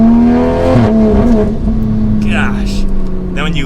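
A 600 whp wide-body Toyota Supra with a manual transmission and rear-wheel drive accelerates hard, its engine note rising steadily up close, then turbo whooshes and hisses come in as the throttle is released.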